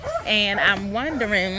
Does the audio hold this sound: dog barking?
yes